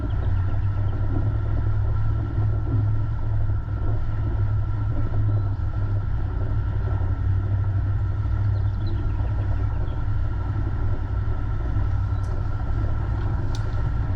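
A solid-axle 4WD crawling slowly over a rough rocky bush track, its engine giving a steady low idling rumble throughout, close and constant, with no talk.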